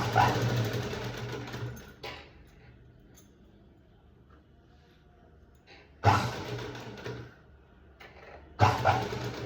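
A sewing machine stitches a blouse in steady close runs, first for about two seconds, then in two shorter bursts near the end, with quiet handling in between.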